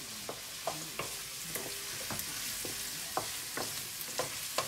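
Ginger and garlic stir-fried in a pan for beef and broccoli, a quiet steady sizzle broken by repeated scraping and knocking taps of the stirring utensil.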